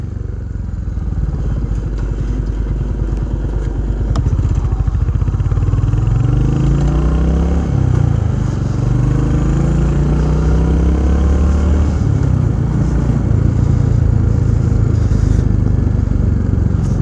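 A motorcycle being ridden, its engine droning close and loud throughout, pitch sweeping up and down as the rider works the throttle through gear changes, with faint rattling underneath.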